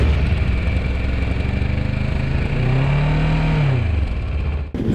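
A CFMOTO 700 MT mid-size adventure motorcycle runs close by, its engine a steady throbbing idle that swells into a brief rev and settles back down before a sudden cutoff at the end.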